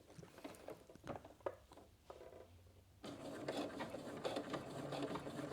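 A sewing machine runs short bursts of back-and-forth stitching on stretch fabric for fingerless gloves. The rapid mechanical patter is close and fairly quiet, with brief pauses between bursts and a denser run near the end.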